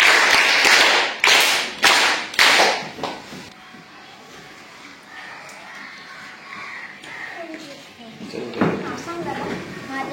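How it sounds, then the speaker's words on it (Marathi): Children at a village primary school quiz clap for a classmate, a burst of loud, sharp claps in a few quick rounds that fades out, followed by quieter ambience and voices talking. "बरं, आता लावण्यासाठी सगळ्यांनी टाळ्या वाजवायच्या आहेत"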